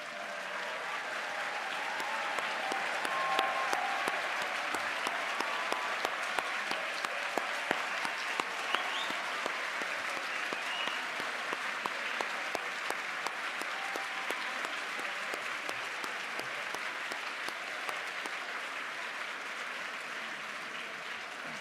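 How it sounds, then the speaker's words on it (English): Sustained applause from an awards-ceremony audience for shortlisted authors at the British Book Awards, a steady dense patter of many hands at moderate distance lasting throughout with sharper claps scattered on top. "Give yourselves a round of applause."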